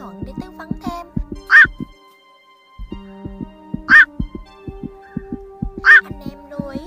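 Black-crowned night herons give loud harsh quacking squawks about every two seconds over steady lower croaking calls, close and clear.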